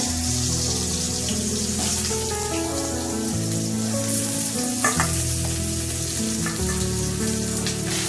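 Potatoes and vegetable stems drop into hot oil already seasoned with white cumin, setting off a loud, continuous close sizzle with occasional stirring knocks and a few scattered clinks.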